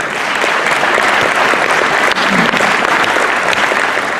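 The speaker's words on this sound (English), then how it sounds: "just a big round of applause for Zach Brown." Steady, dense applause from a crowd at a sheriff's awards dinner in Charlotte County, honoring a volunteer of the year, sustained and loud throughout without talk.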